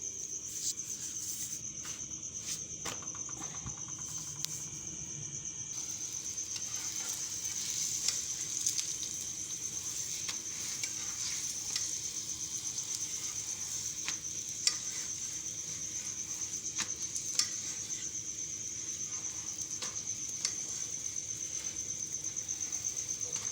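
Roti brushed with ghee sizzles on a hot griddle, a steady close frying hiss with a high-pitched sizzle band holding throughout, joined by a few faint clicks and small knocks.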